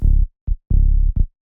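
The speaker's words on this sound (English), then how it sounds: "So without this EQ, the bass sounds like this" An unequalised minimal tech house bass line played from Ableton Live, four short deep bass notes in a loose rhythm with silent gaps between them, loud and alone.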